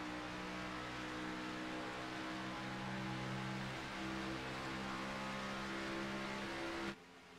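A Toyota race car engine drones steadily during an auto race, a sustained mechanical roar with tonal harmonics that cuts off abruptly near the end.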